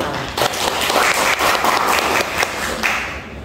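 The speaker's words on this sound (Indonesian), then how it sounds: "Tepuk tangan untuk Nala." Audience clapping and applauding at an Indonesian school event, a steady dense burst of applause lasting several seconds with fluctuating intensity and no speech over it.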